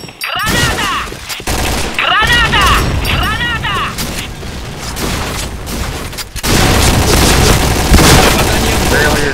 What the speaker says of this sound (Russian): Граната! Граната! Граната!